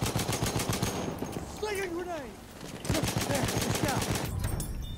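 Gunfire in a Battlefield 1 match: rapid automatic bursts crackle in steady rhythm and pause briefly mid-way under whistling sounds before the shooting resumes, with a voice talking over the action.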